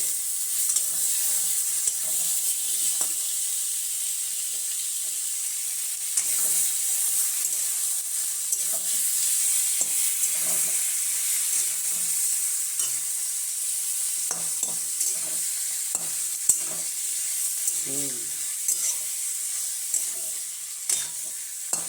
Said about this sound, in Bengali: ভালো করে কষতে থাকবো যত ভালো কষাবে তত টেস্ট হবে